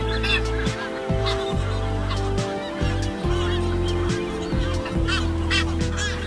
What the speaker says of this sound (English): There's a whole lot of other birds as well, some very, very small terns.